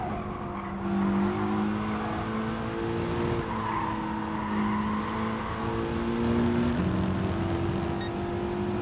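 Mitsubishi Lancer Evo Final edition racing around Tsukuba Circuit in a video game, its engine droning steadily and climbing in pitch as it accelerates, with tire squeal layered over the loud, continuous run.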